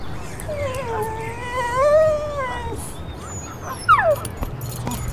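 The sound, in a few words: senior dog howling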